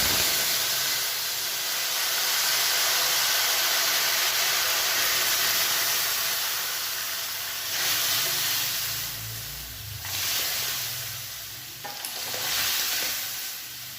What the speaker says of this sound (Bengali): এবার আমি এর মধ্যে সেদ্ধ করা ডালটা ঢেলে দেব।